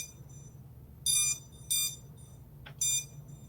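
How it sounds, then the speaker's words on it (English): An FPV quad drone being set up indoors gives three short, bright electronic beeps, fairly close and evenly spaced, with a brief faint chirp before the last, over a quiet low hum and no talk. "Well, the drone started beeping."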